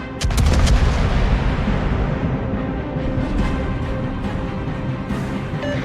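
Warship guns in World of Warships fire a heavy booming salvo, followed by a rolling rumble and scattered further shots that fade into a steady low battle din, loud and alone without talk.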